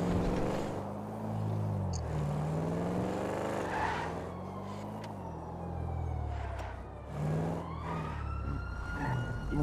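A police car siren wails in a city roleplay video game. It sweeps up and down steadily over the rumble of a car engine, fairly loud and continuous, with no voices.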